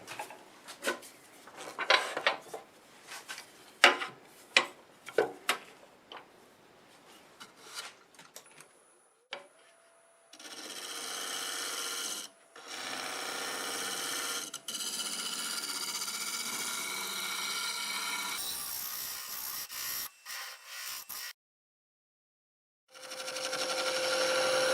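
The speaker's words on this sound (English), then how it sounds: "I think I'll finish that off with the negative rake scraper." Wood turning on a lathe, finished with a negative rake scraper: a few loose taps and knocks first, then loud, steady scraping hiss in long stretches broken by short pauses, close up with no talking.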